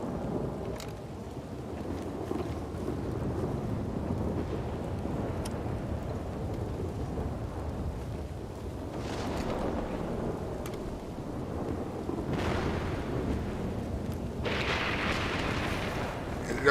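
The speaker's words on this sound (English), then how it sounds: "It's always gotta be pissing rain." Rain pours steadily in Red Dead Redemption 2, with low rumbling thunder rolling through and swelling in several bursts across the stretch, no talking over it.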